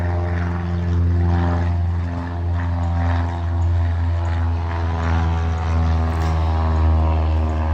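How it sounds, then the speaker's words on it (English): A small propeller plane drones loudly overhead above a park, a steady low buzzing engine hum with a slight rise and fall, no talking. "the sound of those small craft airplanes"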